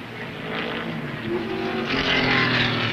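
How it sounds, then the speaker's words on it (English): A big red Camaro improved production touring car races at Warwick Farm in 1971, its engine roaring close by and rising in pitch as it accelerates, alongside other race cars. "Jane working fairly hard behind the wheel to keep the big red Camaro pointed where he wants it"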